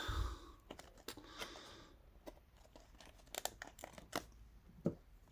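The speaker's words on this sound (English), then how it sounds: "I can get this box to open up for us." Faint tearing, scraping and crinkling of a cardboard twisty-puzzle box, with scattered sharp clicks and rustles as it is pried open with scissors.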